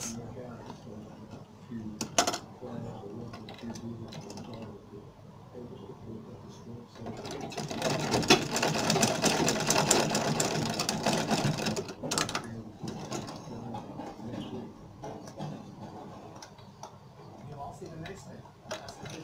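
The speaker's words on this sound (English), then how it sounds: "Then you sew this part." A sewing machine stitches Ankara fabric shorts. Quiet ticking and handling noises lead into a louder burst of continuous stitching midway, which then settles back to softer mechanical clicks, with faint talk in places.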